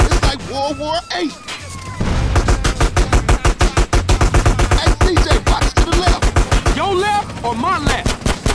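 Rapid gunfire rattles through a GTA San Andreas shootout, dense bursts of shots pounding almost continuously with brief pauses, loud and close, while voices talk over parts of the fight.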